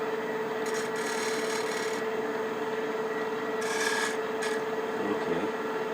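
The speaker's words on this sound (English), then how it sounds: "I can probably use the point tool to shape it a little bit." A point tool, used as a scraper, shapes a wooden bead on a spinning lathe for a picture frame, giving a steady motor hum overlaid with intermittent raspy scraping bursts and no talking.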